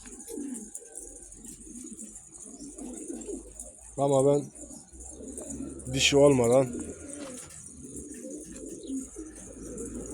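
Pigeons in a rooftop loft give several low cooing bursts, two louder calls standing out near the middle, while someone speaks briefly and quiet rustling fills the gaps.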